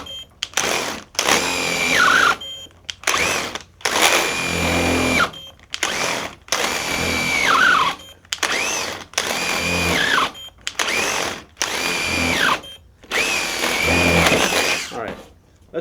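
A Festool TI15 impact drill driver boring with a 3/4 bit, loud close bursts of whining motor separated by short pauses, about nine runs with the pitch sagging under load as the bit binds.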